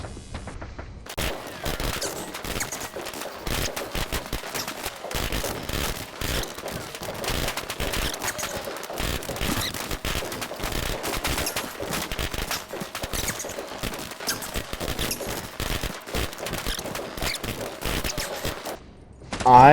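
Sustained gunfire from a pistol and an assault rifle in the mobile bodycam shooter HeadOn, with dense, rapid bursts and single shots running almost nonstop for about twenty seconds, loud and close, with no talking.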